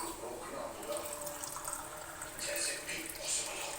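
Water splashes and trickles as it is changed for a home puja, a soft, uneven pouring and sloshing with brief brighter surges, faint and close, with no talk.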